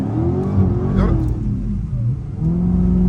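A Hellcat car engine revving while sliding on snow, a loud close rumble that rises and falls with throttle under a steady deep drone, with a voice talking briefly over it.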